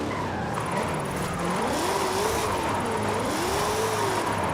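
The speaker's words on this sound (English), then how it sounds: "There's that e-brake." In the Forza Horizon 5 racing game, a car skids under the e-brake while drifting, a continuous wavering tire squeal over a steady engine drone lasting several seconds.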